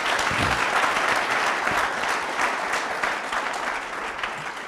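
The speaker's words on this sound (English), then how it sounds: "Just give Emmanuel a big round of applause" An audience at a money-management chat gives a full round of applause, a thick, continuous roar of clapping that stays strong throughout and eases slightly toward the end.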